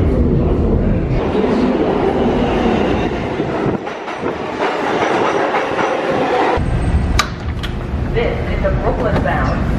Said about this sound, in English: This is a Brooklyn-bound 4 express train.